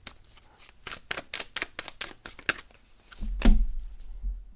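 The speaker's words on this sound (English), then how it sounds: "I shuffled the deck, Gabby," A deck of tarot cards riffled and shuffled in a run of quick, crisp bursts, fairly close, then a heavier thump and rustle as the cards settle, with no talking.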